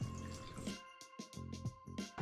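Water poured into a mixing bowl holding fed sourdough starter for bread dough, heard as a series of short close splashing, dripping bursts with brief gaps over a low steady hum.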